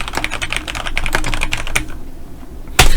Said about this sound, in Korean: 일단 타이핑 할게요.